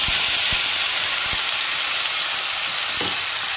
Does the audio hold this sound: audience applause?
no